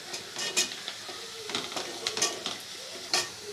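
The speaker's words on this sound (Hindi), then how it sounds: "ये देखिए प्याज अच्छे से तले जा रही।" Onions frying in oil in a pan while being stirred, a steady close sizzle broken by several scraping stir strokes and light clinks of a spoon against the pan, with no talking.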